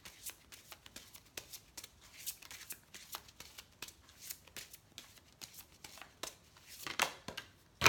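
A deck of fairy oracle cards is shuffled by hand, quick papery riffles and soft slaps repeating in a steady, fairly quiet rhythm.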